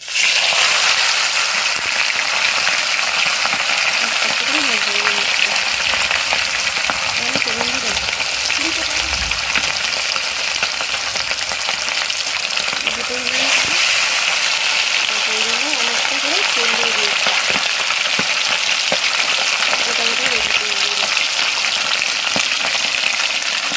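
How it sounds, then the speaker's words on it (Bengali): Fish pieces fry in hot oil with a dense, steady sizzle that fills the whole stretch, and faint scraping sounds come and go beneath it. "আর দেখো এখানে আমার তেলটাও একদম সুন্দরভাবে গরম হয়ে গেছে। আর দিয়ে দেবো মাছের পিসগুলো।"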